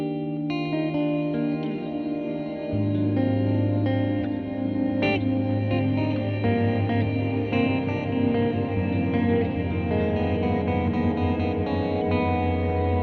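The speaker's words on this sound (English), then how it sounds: "This is the biggest reverb of all three." Huge, spacious reverb from a Pigtronix Cosmosis stereo reverb pedal, washing sustained guitar notes into a dense, shimmering tail with a deep low swell entering early on, steady and loud throughout with no talking.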